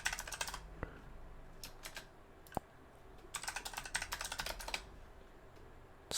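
Fingers typing a password on a keyboard, bursts of quick light clicks separated by brief pauses, close and fairly quiet.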